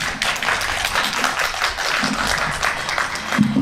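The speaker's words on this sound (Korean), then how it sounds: "여러분 큰 박수 부탁드립니다." A crowd applauds at an urban farming talk concert, the clapping steady and moderate in level, with scattered low thumps and no speech.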